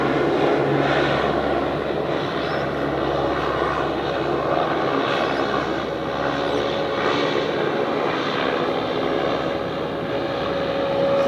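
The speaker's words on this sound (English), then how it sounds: "One of the beautiful little Saabs just taxiing into the bay." A Saab turboprop airliner taxis into its bay at Sydney Airport, its engine drone steady and fairly loud throughout, a continuous propeller-engine rumble with a faint steady whine over it.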